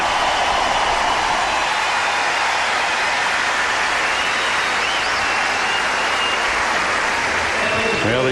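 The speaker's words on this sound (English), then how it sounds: "Listen to the hand for Dent" A large crowd at a 2005 US Open third-round tennis match gives loud, sustained applause for the losing player, an unbroken roar of clapping and cheering through the whole stretch.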